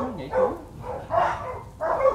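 A H'mông bobtail dog gives a few short barks and yips, close by, mixed in with someone speaking Vietnamese.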